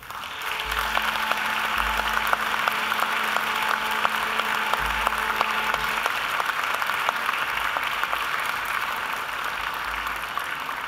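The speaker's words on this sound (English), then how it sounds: "I want you now to give them a mighty round of applause for their help and their contribution." Graduation ceremony audience applauding in a large hall: a steady, dense wash of clapping that holds throughout, with a faint low hum underneath.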